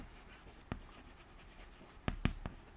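Chalk or marker writing on a classroom board during an English grammar lesson, a few quiet scratchy strokes and taps spaced apart, faint and close with no talk.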